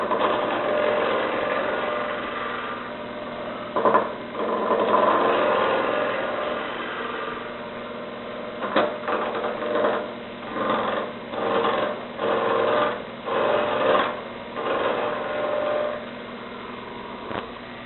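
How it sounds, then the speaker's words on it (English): A wood lathe turns an offset bat blank while a roughing gouge cuts it, giving a steady whirring hum broken by a rhythmic series of louder scraping bursts from the tool. "I'm going to go back to the roughing gouge."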